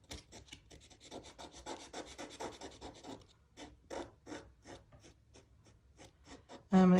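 Close, quiet scratchy strokes of a marker or pencil coloring carefully on paper-covered MDF, a rapid run of rubbing strokes followed by slower, spaced single strokes and a thump at the end.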